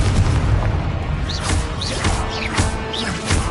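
A Confringo blasting curse going off in Hogwarts Legacy, heard as a series of loud booming magical blasts with whooshing spell bursts during a busy wizard duel, no talking.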